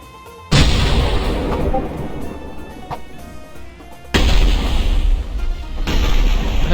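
Two heavy booming explosions in the game Mini World: CREATA, each slamming in suddenly and followed by a sustained roar of rumbling noise.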